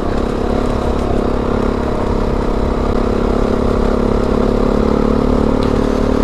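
A trail motorcycle rides through sand on a green lane in Surrey, its engine droning loud and steady at close range with a rough clatter underneath and no breaks.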